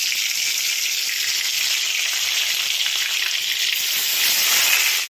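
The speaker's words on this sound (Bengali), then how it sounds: "এবার দিয়ে দেবো চিকেনগুলোকে, আস্তে আস্তে করে ভেজে নেবো ছাকা তেলে।" Marinated chicken legs deep-frying in mustard oil, a loud continuous sizzle and crackle of bubbling oil, close and steady throughout with no voices.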